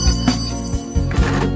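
A bell rings in a few quick, bright strikes up close, with ringing tones carrying between the hits.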